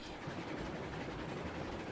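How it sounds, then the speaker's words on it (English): Steam engine and train running on track in the Railroads Online video game, a steady rolling rumble with rhythmic clickety-clack of wheels, faint and continuous without talk. "Full faith this engine and train are going to stay on the track coming up here"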